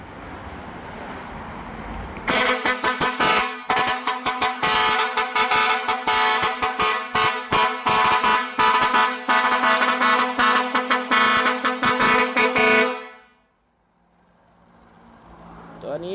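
A modified Ban Pong vehicle horn from the Khom Phet shop blares loud and close in a long, harsh, buzzing blast with rapid pulsing stutters, then cuts off abruptly into quiet background hum.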